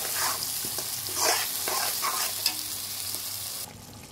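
Parsley sizzles and crackles steadily in a pan of hot oil, browning for an egg gravy, with occasional stirring scrapes; the frying stays close and fairly loud, then drops noticeably quieter near the end.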